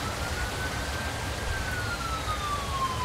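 An ambulance siren in the night-driving anomaly game Route 8 wails as a single tone that slides slowly downward, moderately loud over a steady hiss of road noise, with no talking.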